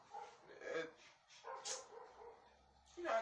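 A dog barks and yips in a few short bursts, loud and close, over and between voices of people talking nearby.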